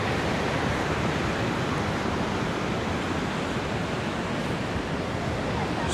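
Surf washing onto Seminyak beach in Bali, a steady broadband roar of breaking waves heard close and continuously, with faint background murmur but no clear speech.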